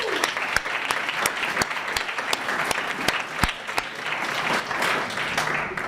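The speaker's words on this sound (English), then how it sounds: "I want everyone to give themselves a round of applause." A crowd gives steady, dense applause at a graduation celebration for completing a pathway program. Sharp individual claps stand out over the clapping, which stays even and continuous throughout.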